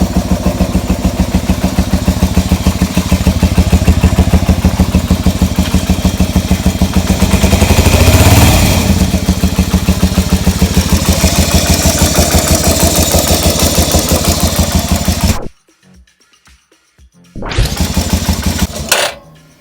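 A Yamaha Virago motorcycle engine runs loud and close after starting, a steady idle with a brief rev swell midway, then it cuts out abruptly before firing up again near the end.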